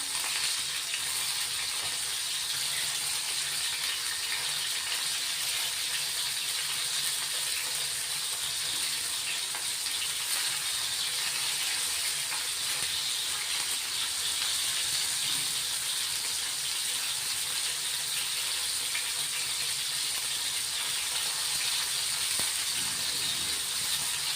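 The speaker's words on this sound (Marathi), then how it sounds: "यांना पण आपण आता 1 मिनिट थोडं तळू देणार आहे" Fresh Bombay duck (bombil) fish frying on a flat tava pan, a steady, even sizzle that holds unbroken and fairly loud throughout, with no talking.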